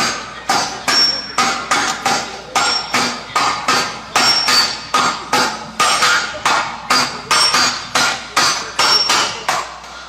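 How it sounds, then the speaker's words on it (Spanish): Hammering from construction work, a steady run of sharp metallic blows repeating about twice a second, close and loud with no voices over it. "el ruido que se oía era el ruido del martillo"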